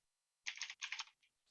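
A computer keyboard typed in a classroom, two rapid bursts of clattering keystrokes close by, followed by a few lighter, sparser taps as the typing trails off.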